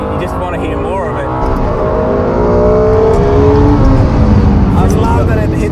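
Lexus LC500 sports car engine revving hard up to the rev limiter, a loud, sustained near engine roar with rising harmonic sweeps, heard alone without talk.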